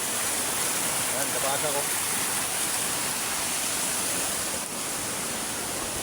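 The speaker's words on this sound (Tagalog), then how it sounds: "Tignan nyo, may falls." A waterfall on a river rushes with a constant, loud broadband roar close by, filling the whole scene, while someone speaks briefly over the noise.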